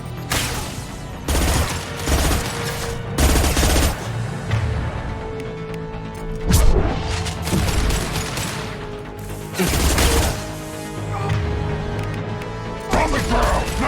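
Gunfire in the Mass Effect 2 video game: repeated bursts of shots and mechanical weapon clatter recur through the passage, loud and close against a game soundtrack.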